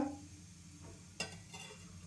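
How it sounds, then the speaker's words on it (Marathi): Oil poured into a pan for Hyderabadi Dalcha rice: a soft liquid pour and faint sizzle, then a single sharp clink of the ladle against the pan, quiet with no talk. "मी तीन पळी तेल घालून घेत आहे"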